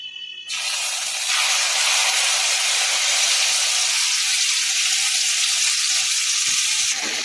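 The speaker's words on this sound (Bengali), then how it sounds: "এটাকে একটু ভালো করে ভাজবো যতক্ষণ না তেল ছেড়ে যায়" Spice paste for bhetki malai curry fries in oil over a low gas flame, starting with a sudden burst and settling into a loud, steady, close sizzle that continues without pause.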